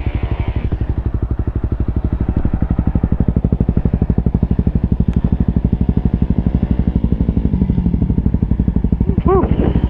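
A dual sport motorcycle engine, CRF250L or WR250R, labors up a steep hill climb with a rapid, steady chugging pulse throughout, loud and close, rear tire spinning, with brief speech near the end.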